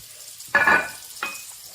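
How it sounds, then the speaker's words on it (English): Parsnips dropped into a hot roasting pan give two short bursts of sizzling, a loud one followed by a smaller one, close by with no talk. "So what I'm going to do here is put the parsnips in the pan first"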